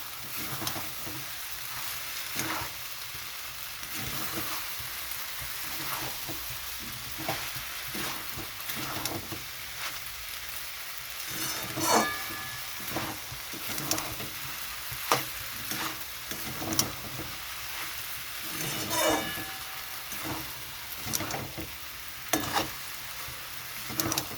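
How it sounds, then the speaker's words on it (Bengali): Sabudana khichdi sautéed over a raised gas flame gives a steady crackling sizzle, punctuated by repeated scraping and tapping of a spatula against the pan, with no voices. "গ্যাসটা বাড়িয়ে দিয়ে এরকমভাবে একটু ভালো করে কষিয়ে নিতে হবে"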